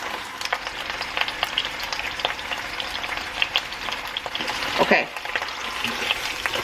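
Meat sizzles and fries steadily in a hot pan while being browned on each side, a continuous crackle with a brief stir partway through and one short spoken word.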